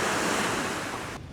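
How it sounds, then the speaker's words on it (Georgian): Sea waves wash onto a shore in a continuous loud rush, close by and mixed with wind buffeting the microphone, then cut off abruptly near the end, with no voices. "ახლა როგორი ხმაც ისმის,"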